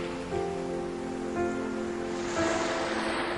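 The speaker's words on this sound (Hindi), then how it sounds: "समुद्र की आवाज" A steady wash of ocean surf with broad hissing noise and no voices, the waves swelling slightly at intervals over a sustained tonal hum throughout.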